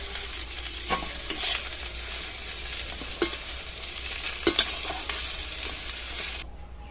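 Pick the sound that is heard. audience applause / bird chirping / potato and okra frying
potato and okra frying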